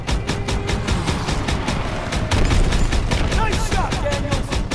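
Dense, loud gunfire from the video game Call of Duty: WWII, rapid overlapping shots and bursts with occasional booms in a chaotic battle, continuous throughout with a voice briefly mixed in.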